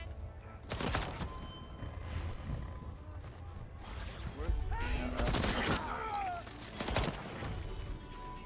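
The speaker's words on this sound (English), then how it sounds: "Headshots cause explosions." Video game gunfire with headshots triggering explosions, heard as a few sharp, loud bursts over a dense, noisy game background.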